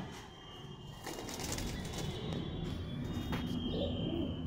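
Madras pigeons kept in a home loft coo softly and intermittently at close range, low murmuring calls against a steady background hum, with no talk.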